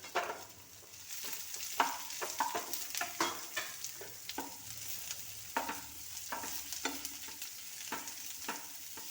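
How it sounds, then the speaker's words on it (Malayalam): Chopped onions sautéing in a hot pan with curry leaves, crackling and sizzling steadily while a spoon scrapes and stirs in frequent sharp clinks and scuffs throughout, close and without voices. "ഇതിലേക്ക് നമ്മൾ അരിഞ്ഞു വെച്ചിരുന്ന സവാള ഇട്ട് കൊടുക്കാം സവാള ഇട്ടൊന്ന് നല്ലതുപോലെ എടുക്കണം"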